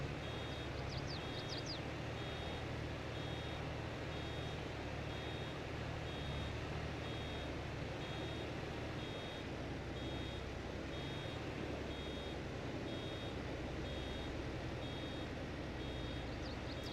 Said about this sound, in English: You guys are going to have that beeper stuck in your head for a while.